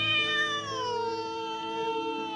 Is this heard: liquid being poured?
no